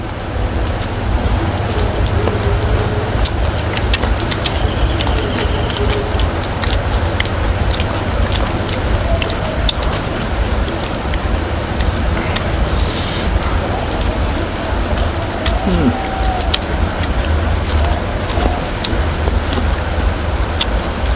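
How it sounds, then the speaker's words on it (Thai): Heavy rain pours steadily and loudly for the whole stretch during an outdoor cooking session in a rural Thai setting, with faint birds calling now and then beneath the constant downpour. "มาพี่น้องฝนตกกันปะ"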